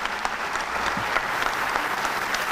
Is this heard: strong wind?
no